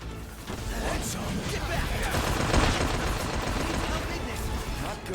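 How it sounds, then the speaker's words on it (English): Steady automatic fire in Final Fantasy XV, a dense rapid rattle like a Tommy gun running through a busy battle mix, moderately loud and continuous with voices underneath. "Sounded like a straight up Tommy gun."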